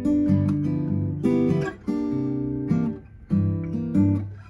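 Fingerpicked acoustic guitar moves between chords, with ringing bass-and-treble plucks repeating in short, even phrases, each group struck crisply up close and left to sustain before the next.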